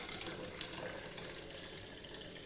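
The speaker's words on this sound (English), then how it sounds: "I've got some water here at 21 degrees, so let's just add that to" Water at 21 degrees is poured into film fixer solution while home-developing Ilford 125 film, a steady, continuous splashing pour that is quiet, close and heard on its own.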